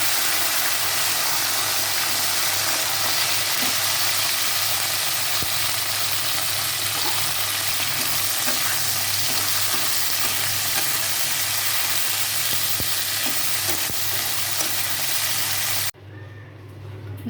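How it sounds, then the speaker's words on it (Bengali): Okra frying in hot oil, a loud, dense, continuous sizzle close by with faint clicks, steady for most of the stretch before dropping abruptly near the end. "এখন ওই ঢেঁড়সটা একটু ভেজে তুলে রাখবো।"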